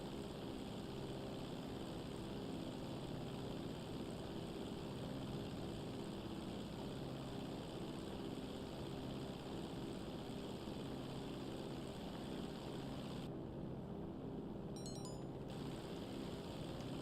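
Steady, unbroken drone of a propeller plane flying in GTA Online, a constant engine and airscrew hum filling the whole stretch with no talking over it.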